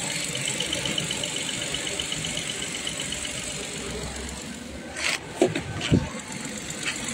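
Car engine idling steadily after its battery was charged, on a car stalled on the road with a fuel pump motor problem; continuous low rumble with a few brief clanks near the end.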